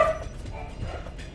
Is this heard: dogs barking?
yes